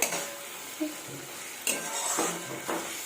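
Spice masala for a jackfruit curry sizzles in a pan while being stirred, with soft scraping strokes and a few louder clinks of the spoon against the metal, close and steady throughout.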